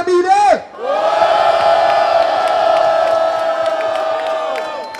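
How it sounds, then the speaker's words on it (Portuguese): Crowd at a rap battle in the Roda Cultural da Rocinha erupts in loud, sustained cheering and shouting, preceded by a brief raised voice, with the roar holding steady before easing off. "Barulho só pra quem achou que foi James, família!"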